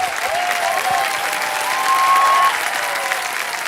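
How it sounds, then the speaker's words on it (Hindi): Studio audience on a Hindi television show breaks into sustained, dense applause that holds steady and fills the room throughout, with a faint tonal whistle-like streak running through the middle. "जोरदार तालियां रजनी जी के लिए।"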